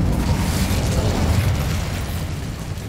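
Incendio fire spell cast in Hogwarts Legacy, a loud, dense roaring burst of flame with deep rumble, sustained for a few seconds and slowly easing off, with no talking.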